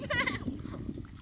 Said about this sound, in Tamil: பிள்ளைகளோட சேர்ந்து ஆட்டுக்குட்டியோட ரெண்டு வந்துருக்கு